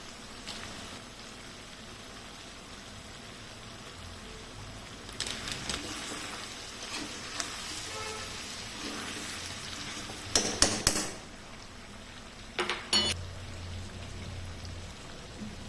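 Ginger garlic paste fries in a pan for a street-style chicken fry, a steady soft crackling hiss with a few louder bursts of spattering and stirring clatter near the end.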